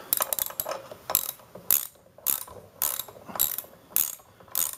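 A hand ratchet tightens grade 8 bolts on an Allis-Chalmers B1 tractor ignition coil. Rapid clicking bursts come in a regular rhythm, close and loud, with brief pauses between strokes.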